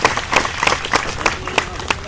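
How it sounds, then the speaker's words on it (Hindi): Audience at a cooperative society protest rally clapping in a loose, steady burst of applause, with crowd murmur and some voice beneath the claps. "जोरदार ताली बजाइए।"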